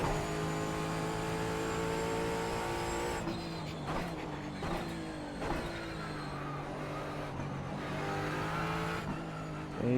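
Ford Mustang GT4 race car engine in iRacing at Sonoma, revving hard with rising harmonic pitch as it accelerates, stepping through gear shifts, close and steady for the whole stretch.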